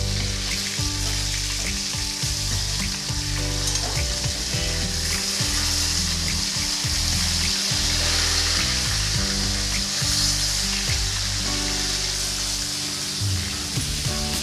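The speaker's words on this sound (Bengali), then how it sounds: "মাছের এক পিঠ ভেজে নেওয়া হয়ে গেছে এবার আমি অপর পিঠে উল্টে দিয়ে ভালো করে ভেজে নেব" Pieces of katla fish fry in hot oil in a pan, one side already browned, with a constant close sizzle and crackle broken by occasional knocks and scrapes of a spatula for about fourteen seconds without speech.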